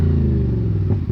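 A short burst of deep, rumbling engine sound from a CFMOTO 450SR motorcycle with a 270-degree crankshaft, close and loud, with a slight rise near the end.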